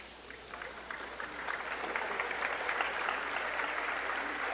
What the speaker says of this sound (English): Stallman will get an applause as she is helped off the floor